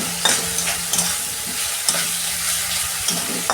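Ground dry chilli paste sizzles in a frying pan while being stirred, giving a steady crackling hiss. Soft scraping knocks from the stirring recur through it.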